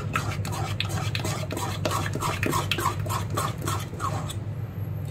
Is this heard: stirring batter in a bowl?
yes